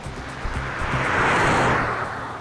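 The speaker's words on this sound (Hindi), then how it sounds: "रजत गाड़ी तेज ले।" Car driven fast, a loud close engine and road roar building to a whooshing peak mid-way and easing off, with a low engine hum underneath.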